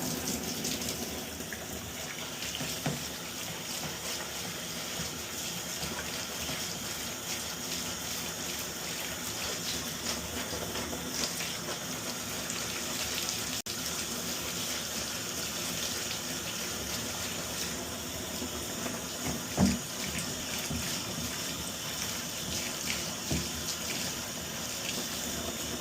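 Hot water runs from a sink tap in a steady, continuous gush with only small splashing changes, heard alone for about twenty-five seconds.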